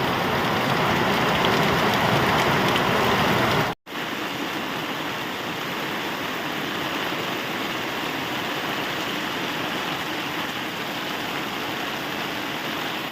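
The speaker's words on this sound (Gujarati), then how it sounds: "મસ્ત જોરદાર વરસાદ પડે આપણે." A heavy downpour falls steadily and loudly in a village, a dense unbroken roar of rain that cuts out for a moment before resuming just as strongly.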